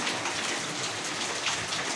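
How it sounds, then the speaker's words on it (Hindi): Heavy rain pours steadily in Karachi, a dense, even wash of hiss with no break, close and moderately loud, no voices. "मगर कराची में इतनी तेज बारिश हुई"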